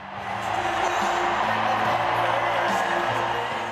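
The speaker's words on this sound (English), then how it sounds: "the crowd cheered Cruz, but they're here for Trump" Crowd at a Ted Cruz and Trump political rally in Texas cheering and whooping steadily, a dense sustained roar of many voices with some scattered shouts.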